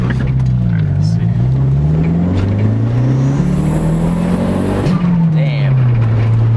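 A Mitsubishi Eclipse GST turbo engine revs up and down nearby in steady, loud rising and falling sweeps with a whistling, hissing note near the end, while people talk over it.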